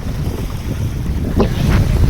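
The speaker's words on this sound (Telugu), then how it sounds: "సముద్రంకి వచ్చినా కృష్ణా రివర్కి వచ్చినా ఘోరంగా వస్తున్నాయి అలలు మాత్రం" Strong waves on the Krishna river, heard from a fishing boat out in midstream: a loud, continuous wash of water buffeted by wind noise, with a couple of brief splashes near the end and no voices.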